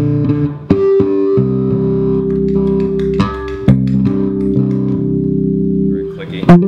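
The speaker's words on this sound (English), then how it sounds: "I've always struggled with getting the right distortion sound, but I think this sounds pretty good" A bass guitar runs through a distortion effect pedal, with dry signal blended in. It plays loud, buzzy sustained notes with a few sharp plucked attacks.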